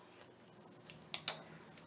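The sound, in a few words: scissors cutting across craft material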